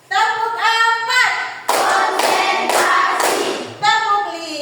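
A classroom of children clapping a counted pattern, a run of sharp, loud clapping bursts packed between chanting children's voices.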